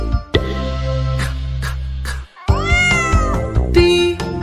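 Meows from an animated cat in a children's phonics song, two drawn-out calls, the second rising and wavering, loud and close over a musical backing.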